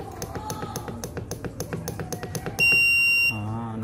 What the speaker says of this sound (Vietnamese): Nó kêu tít tít tít như vậy là được nhé